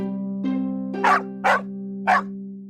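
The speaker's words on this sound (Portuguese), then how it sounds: "Rabugento como ele, o cachorro latia." A dog barks three times in a Christmas story audiobook, sharp close barks at an even pace over a steady low hum and soft background music.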